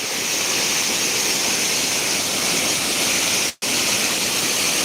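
Water of the Satluj river pours through a canal gate at the Ropar headworks in a loud, steady, close roar of rushing water, broken only by a single split-second dropout near the end.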